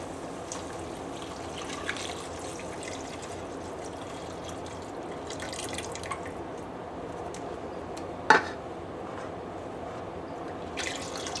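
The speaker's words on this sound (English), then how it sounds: "And now goes in the beef broth." Beef broth pours into a cast iron pot while bean soup is made, a steady soft liquid splashing and trickling throughout, with one sharp clink near the end and no talking.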